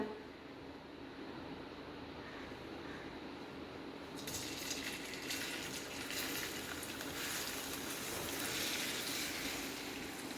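Hot oil for a Goan Saraswat crab masala tempering bursts into a louder, bright frying crackle partway through as chopped onion goes in, after a quieter low hiss; a steady close sizzle continues to the end.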